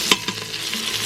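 A steak sears in an Instant Pot and is flipped, a loud close sizzle opened by a sharp utensil clank, with a second softer knock a moment later.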